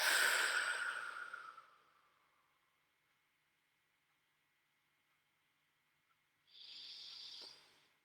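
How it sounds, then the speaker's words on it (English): A single deep, slow breath, drawn in and audibly exhaled close to the mic, then a long quiet pause before a softer second breath. "Deep breath."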